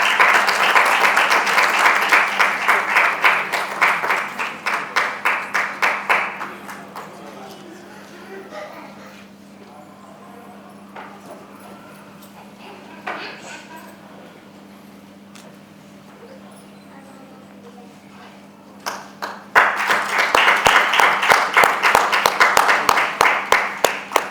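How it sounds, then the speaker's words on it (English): An audience at a Mother's Day celebration at a milk bank gives a long, loud round of applause that fades into a quieter stretch with a voice speaking, then swells again into full clapping near the end. "Big round of applause."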